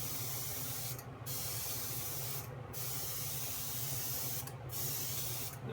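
An airbrush sprays Resolene finish onto leather during belt making, giving a steady close hiss that runs continuously with three brief dips where the spray pauses.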